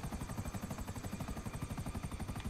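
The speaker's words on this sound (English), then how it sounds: "My helicopter's right over here." A helicopter in GTA 5 drones steadily with a rapid, even rotor chop, loud and close throughout, with no talk over it.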